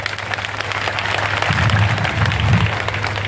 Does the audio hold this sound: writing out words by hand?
no